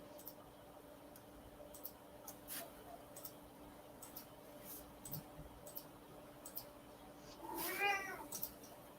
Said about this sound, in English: I heard a cat.